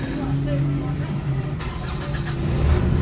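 Nissan Calibre D32 engine turning over and starting after a no-crank, no-power fault repair, a steady mid-pitched mechanical hum close by that swells louder near the end, with people talking over it.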